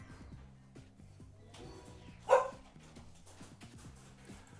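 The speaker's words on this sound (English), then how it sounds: "Don't mind that, it's just my dog." A pet dog lets out one sharp, loud bark close by indoors, standing out over quiet background tones and faint low sounds.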